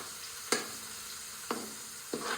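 Chicken gizzards frying in a pan, a quiet continuous sizzle with three distinct stirring scrapes spaced about a second apart.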